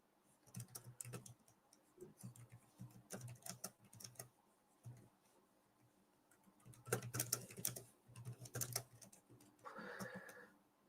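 Someone types on the keyboard cover of a Boox Note Air5 C tablet, making soft, quiet clicks in uneven bursts with short pauses, close by and without any talk.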